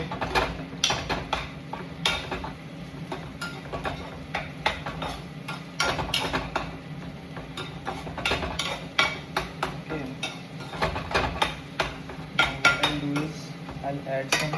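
Egg and cucumber mixture stirred in a bowl with a utensil, giving steady scraping and clinking strokes over about fifteen seconds, close and fairly loud, with a low hum in the background.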